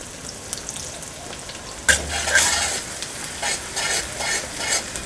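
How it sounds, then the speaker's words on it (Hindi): Chopped onion is tipped into hot oil with crackling cumin seeds for a dhaba-style dal keema. A sudden sharp sizzle bursts up and settles into steady frying with repeated stirring scrapes, close and clear, with no talking. "और 1 अदद प्याज जो हमने चॉप किया हुआ था वो भी हम शामिल कर देते हैं जी।"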